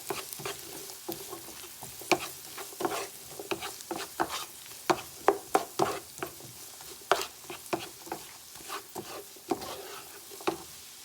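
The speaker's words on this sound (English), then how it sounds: "I'm actually going to add my celery in now, just to give it a little bit of a cook time" Celery sizzling and frying in a pan for a turkey pot pie, with a steady close crackle broken by repeated sharp stirring scrapes and clicks, no talk.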